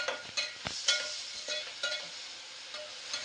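Wheat rava upma being stirred in a pan with ginger, green chillies and tomato, giving a soft scraping with a light sizzle and a few louder spoon strokes, close by and steady, with no talking.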